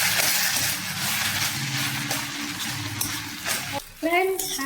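Rice for tomato rice is stirred in a hot pan, with a steady sizzle and scraping over high flame, then a short break and a voice speaking at the end.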